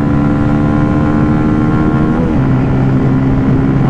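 Motorcycles drag race, among them a Pulsar NS200 BS7, a Pulsar NS200 BS6, a Yamaha R15M BS7 and a Pulsar F250, giving a loud, close engine drone that drops in pitch partway through like a gear shift, then drones on.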